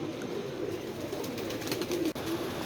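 A freshly caught pigeon coos softly in stormy weather, a low murmuring call that continues over a steady background of wind or rain noise.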